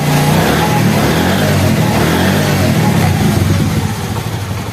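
A Honda CD 70 motorcycle engine is revved hard in a workshop. The close, loud, steady roar holds high and then eases slightly toward the end, with no voices.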